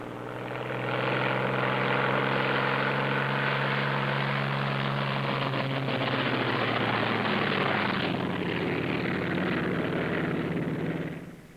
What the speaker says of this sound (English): First pair off. Second pair taxis out.